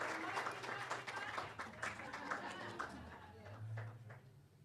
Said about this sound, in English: Please, let's give Dianne another round of applause.